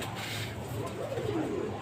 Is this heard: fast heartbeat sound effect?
no